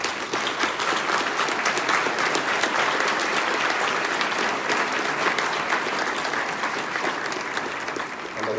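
Audience at a lecture on Mexican dinosaurs breaks into sustained, steady applause, dense and even clapping filling the room for several seconds with no talking.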